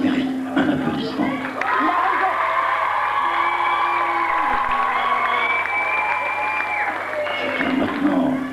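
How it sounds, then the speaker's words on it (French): Applause and cheering rise from an audience at a live French televised show honoring truck drivers, with a voice speaking over the steady crowd noise and a tonal hum underneath. "ça mérite un applaudissement"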